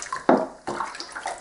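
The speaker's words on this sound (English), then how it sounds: "I'll pop her back in the sink and just rinse that off" Water splashes and runs in a sink as shampoo is rinsed off a guinea pig, a few close, uneven gushes with short pauses and no talking.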